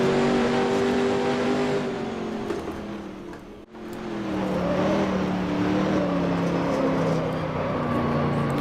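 Chaparral 2F race car engine in Grand Prix Legends droning steadily at high revs through a warm-up lap at Riverside, pitch rising and falling with gear changes, briefly cutting out near the middle before roaring back.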